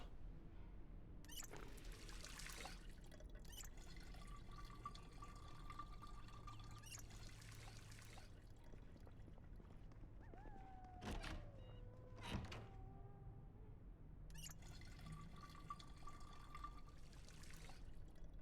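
Water pouring and trickling into a bottle in several bursts, with gurgling pitch changes and a couple of soft thunks, fairly quiet.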